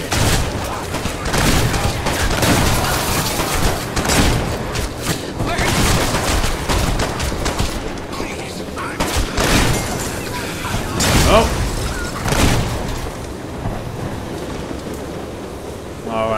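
Repeated shotgun blasts and bursts of gunfire from the violent shooter video game Hatred, loud and dense over a continuous rumbling game soundscape, with a voice speaking over the action.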